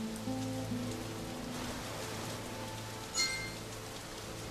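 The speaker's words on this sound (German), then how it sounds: "Vielen Dank für den Regen, Effert." Steady rain pours in the German-language fantasy role-playing game Satinavs Ketten, a continuous hiss with game music tones beneath it and one brief brighter splash near the end.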